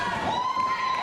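A wrestling crowd at an NWA Mountain State show cheers and shouts in a loud, continuous roar with a high whoop or whistle riding on top, heard briefly and up close.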